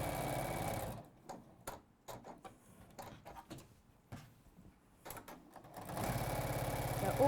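A sewing machine stitches steadily through thick layers of a sapphire quilt, its motor hum broken by a stretch of quieter pauses and clicks before the whirring resumes loudly near the end.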